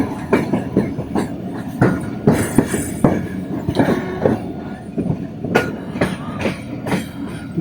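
A train pulls into Peshawar city station after a run from Karachi, giving loud, close rhythmic clacks of wheels over rail joints that repeat in uneven bursts over a rumbling carriage, with no talk.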